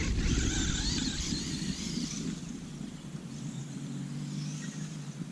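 FTX Zorro radio-controlled car on a 2S battery driving outdoors, a continuous buzzing electric motor whine with rising and falling pitch, fairly close and steady, with faint background ambience.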